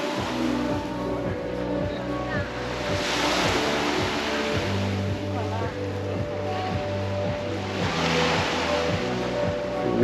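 Sea waves wash onto the beach at Geroskipou, Cyprus, in broad swelling surges that rise and fade twice. A person talks throughout, and a steady low rhythmic sound runs underneath.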